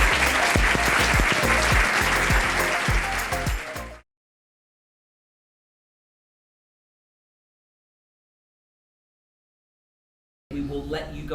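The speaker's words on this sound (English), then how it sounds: "A round of applause for everyone else involved" School assembly audience, largely children, applauding a Year 6 show: dense, loud clapping with distinct individual claps, which stops abruptly into a long silence before more sound returns briefly at the end.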